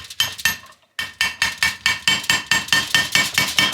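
Rapid, evenly spaced metallic taps drive a countersunk part into a 2012 Kawasaki KX250F bottom end, about fifteen sharp close strikes after a short pause, the tone shifting slightly as the part bottoms out.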